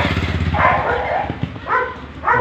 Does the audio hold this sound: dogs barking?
yes